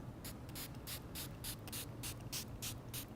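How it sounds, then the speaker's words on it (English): PK Peel neutralizing spray is pumped onto skin in a rapid, regular series of about ten short hissing bursts, close and clear, over a low background hum, with no talk. "applying the PK Peel neutralizing spray"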